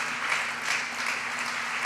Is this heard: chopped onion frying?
no